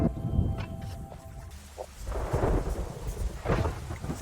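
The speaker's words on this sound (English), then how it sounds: "The thunder in the air is a beautiful sound" Thunder rolls over a steady rainstorm in the ecological rebuilding game Terra Nil, with deep rumbles swelling twice amid continuous loud rain hiss and no voices.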